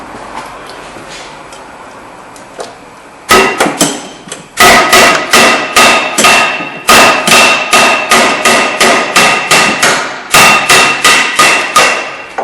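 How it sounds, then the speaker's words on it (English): A hammer striking the back of an old rear brake rotor on a Kia Rondo to knock it loose, starting with a few isolated hits, then a loud, rapid, steady series of close metallic blows. "So you can just bang it in the back here and knock it right off."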